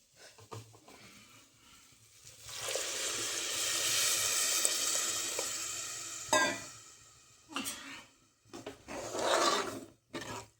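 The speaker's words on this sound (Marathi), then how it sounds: "चला आता पाणी घेते टाकून" Water pours into a hot cooking pot of masala rice with fresh vegetables, a loud, steady sizzling hiss lasting a few seconds, followed by a few clanks and scraping stirs.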